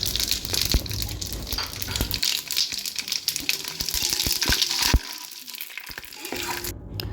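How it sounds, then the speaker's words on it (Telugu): Whole spices (cinnamon, cardamom, cloves, shahjeera and star anise) sauté in a pan of hot oil for Bagara rice, giving a steady sizzle and crackle broken by sharp clicks and stirring knocks, with no talking. "ఇవన్నీ వేసుకున్న తర్వాత మంచిగా సాటే చేసుకోవాలి."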